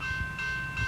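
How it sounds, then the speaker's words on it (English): A train draws near on the rails with a low, steady rumble and a sustained high whine. The whole sound is brief and fairly faint, with no talking. "Don't get hit by a train."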